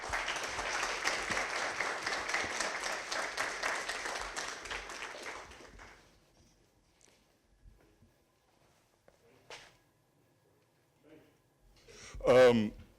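Warm audience applause for arriving guests at a Black History Month college author conversation, a dense steady clapping for about six seconds that fades into near silence with a few scattered footsteps and small noises.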